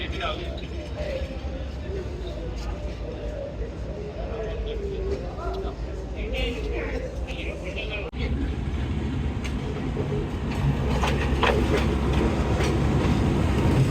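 Karachi Express train rake rolling into a platform at Lahore Junction on a foggy day, a continuous rumble with rattling wagons and clattering wheels that grows louder near the end, while someone talks over it.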